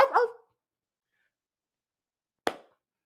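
A person imitating a dog's bark with their voice: a short doubled bark-like burst, a long silent gap, then one more sharp single bark, close and fairly loud with no other sound.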